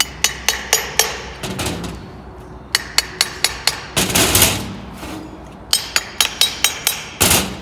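A copper hammer taps lightly on the stubborn turbine housing of a Toyota V8 engine, sharp metallic strikes coming in quick bursts of several blows with short pauses between, close and clear with no talk.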